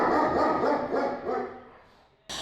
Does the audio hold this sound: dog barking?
yes